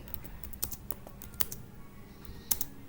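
Python code is typed on a computer keyboard in quick, uneven bursts of close, crisp key clicks, heard alone without any speech.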